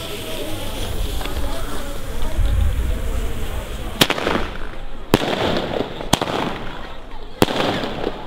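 Double Strike Blue firecrackers go off outdoors in four sharp, loud bangs spaced about a second apart. Each bang leaves a short crackling tail, and a rumble and muffled voice come before them.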